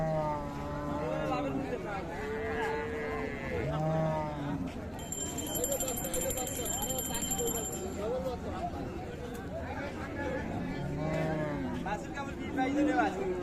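Friesian cows moo repeatedly amid a busy outdoor crowd at Raniganj livestock market, Dinajpur, several low bellows from nearby animals mixed with people talking and a brief electronic beeping.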